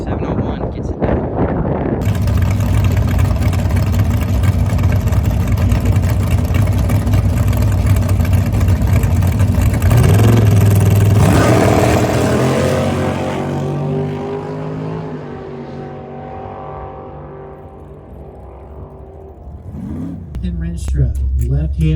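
Drag racing truck engine on a timed NHRA Division 7 run, loud sustained roar building and holding, then fading as it pulls away into the distance, with a voice talking briefly near the end.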